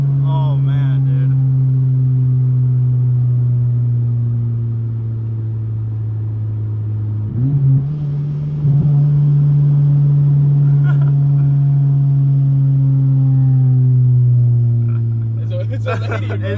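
A 1995 Honda Del Sol with a big turbo drones steadily while driving, its engine note dipping and rising again around missed, rough gear shifts, with people talking over the continuous engine sound.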